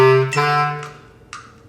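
Bass clarinet plays a short audition measure: a held low note, then a few quick tongued notes stepping upward, fairly close and unaccompanied, fading at the end.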